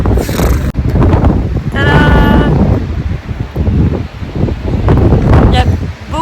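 Strong wind buffets the microphone with heavy low rumbling gusts at a high point in Cefalù, Sicily, and a voice speaks briefly underneath.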